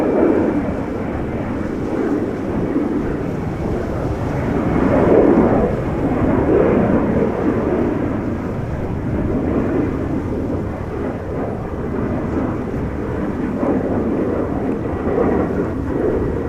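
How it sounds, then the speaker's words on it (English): An Embraer 190 jet departs Amsterdam Schiphol for Bordeaux, its broad engine roar rising and swelling near the middle before holding steady, loud and continuous with no voices. "Embraer 190 doing the red wine express route to Bordeaux."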